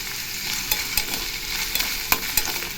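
Ginger garlic paste and onions fry in a pan with a loud, constant sizzle, broken by several crisp scraping clicks of a spatula stirring at irregular intervals, close up.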